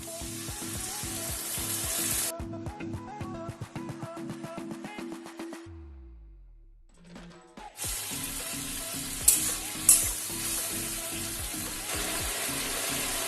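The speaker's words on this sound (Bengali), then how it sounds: "এই মশলাটা ভালো করে ভাজতে হবে" Ground spice paste sizzles in a pan with already fried tomato and onion for a Bengali-style rohu fish curry. A steady, crackling fry runs at the start and end, and a tonal musical passage interrupts it in the middle.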